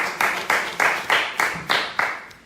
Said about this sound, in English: You guys keep clapping